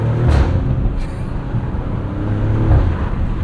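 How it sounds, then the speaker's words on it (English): 2024 Maserati Grecale Trofeo with twin-turbo V6 engine, driven in rush-hour commuter traffic, revs with a steady low engine rumble and a couple of brief blips, heard from inside the car with road noise. "You can make lots of little joyous, very theatrical noises with this car."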